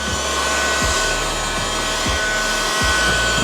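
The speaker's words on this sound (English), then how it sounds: "And let's just keep on vacuuming." A Ryobi USB lithium handheld vacuum, model FVH67K, runs steadily and close with a constant motor whine, its tone dipping briefly about every second as it is pushed across a surface.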